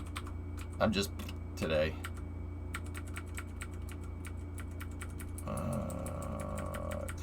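Rapid clicking of keys on a computer keyboard, close and steady throughout, with a voice briefly speaking over it and a low background hum.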